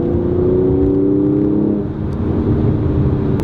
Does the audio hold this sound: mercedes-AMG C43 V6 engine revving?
yes